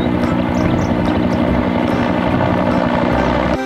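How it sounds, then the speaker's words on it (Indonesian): A toy helicopter's whirring rotor drones loudly and continuously for a few seconds, close by, cutting off abruptly at the end. "di sini ada helikopter"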